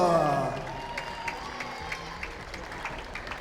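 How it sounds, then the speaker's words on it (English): Crowd at a women's tchoukball Nations Cup final between Switzerland and Italy applauding the teams, a loud burst of clapping at the start that thins and fades, with a voice faintly underneath. "on les applaudit bien fort"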